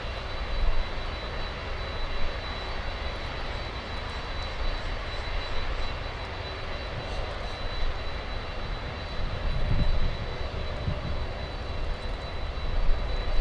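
An Embraer E175 regional jet arrives at Miami International Airport with a steady, broad engine roar that holds moderately loud for the whole stretch, with no talking over it.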